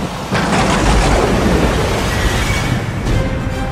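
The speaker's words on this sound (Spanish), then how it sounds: "en medio de una tormenta" Thunder rolls in a heavy storm, a loud, broad rumble breaking in sharply and lingering with a dense roar, swelling again near the end.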